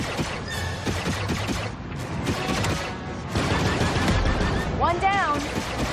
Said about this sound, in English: Turret activated, Kay.